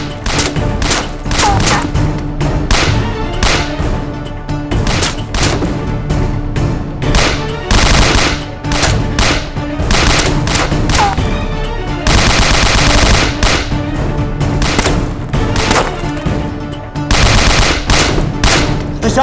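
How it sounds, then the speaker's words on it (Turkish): Gunfire from commandos outside crackles continuously, with dense rapid bursts of machine-gun fire and single shots layered together. It stays loud and relentless throughout with no talk. "Dışarıdaki silah seslerini duyuyor musun?"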